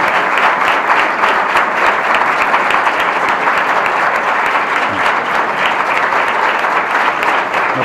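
Sustained, dense applause from a regional assembly in Murcia greeting its newly proclaimed president, steady and loud throughout with no voices standing out.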